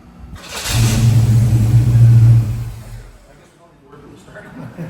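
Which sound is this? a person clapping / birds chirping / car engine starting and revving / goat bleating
car engine starting and revving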